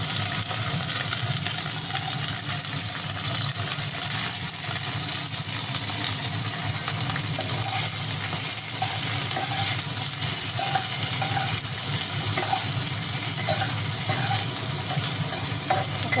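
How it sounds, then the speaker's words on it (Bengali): Okra frying in hot oil tempered with nigella seeds, a steady sizzle and hiss running for the whole stretch with faint stirring clicks, close and alone without talk. "প্রথমে কালো জিরে ফোড়ন দেব, অল্প একটু দেবো, তারপরে ঢ্যাঁড়সগুলো দিয়ে দেবো।"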